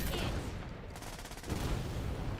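Mortar rounds fire twice in a video game, producing dense, roaring blasts of gunfire-like noise that fill the clip, with a brief dip between the bursts.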